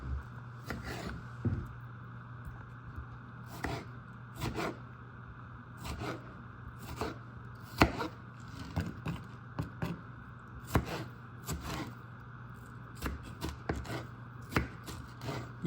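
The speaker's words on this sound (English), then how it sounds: "Now we're going to cut it in small pieces." A peeled vegetable gets cut into small pieces on a cutting board while making a smoked sausage and pasta casserole, with a steady series of crisp knife chops and scrapes, fairly close and moderately quiet, with no talking.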